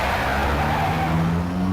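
Tires squeal in a steady, loud skid as a getaway car peels away in the Max Payne video game, one continuous screech close by.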